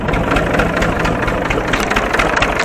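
An Ursus C360 3P tractor runs after a cold start in freezing weather, a loud, steady, rough diesel idle with a knocking rhythm, close by and alone.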